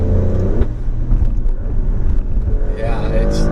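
A 2020 Alfa Romeo Stelvio Quadrifoglio pulls hard, its engine rumbling loud and close, the revving note rising toward the end.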